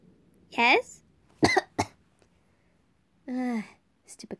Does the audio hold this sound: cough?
yes